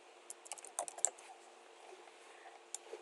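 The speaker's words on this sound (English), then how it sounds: "I'm just going to type in the word" Someone types on a computer keyboard in quick, irregular bursts of light clicks, fairly quiet and close, with short pauses and no talking.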